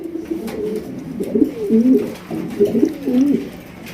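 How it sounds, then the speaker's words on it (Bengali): House pigeons cooing nearby in soft, rolling low calls, two or three phrases in a row with brief pauses between. "একজন হাউস পিজন কবুতর দেখতেই পাচ্ছেন"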